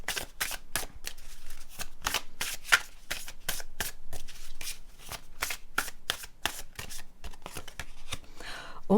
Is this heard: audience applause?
no